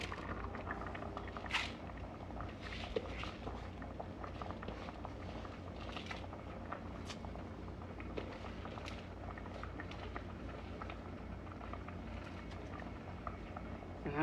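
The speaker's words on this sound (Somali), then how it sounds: "marka inta kale waxa lagu karnayaa bariiska si fiican u soo dhaqay aan ku darayaa" Washed rice cooking in boiling water in a pot, a faint steady bubbling and patter with occasional louder pops, heard alone without talk.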